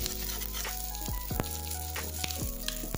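An egg fries in a pan with a steady, close sizzle, broken by a few sharp scrapes and clinks as a broken spatula works at it; no one speaks.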